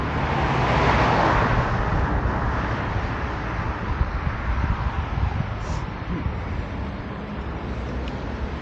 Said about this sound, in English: Let's hope this megaphone covers the engines of these cars.